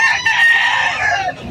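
A rooster crows at a Philippine pet market in Malabon, one loud, close, drawn-out call that holds steady for over a second before trailing off, with faint market bustle beneath.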